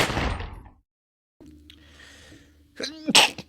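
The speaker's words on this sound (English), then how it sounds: "That was a genuine sneeze." One loud, explosive sneeze near the end, preceded by a sharp intake of breath, following a burst of noise and a quiet pause.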